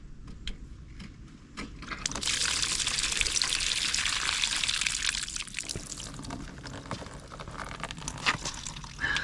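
Coolant pours and splashes from the radiator of a 1985 Honda Goldwing GL1200 motorcycle, a close steady gushing stream starting after a few drips and running on, tapering slightly toward the end.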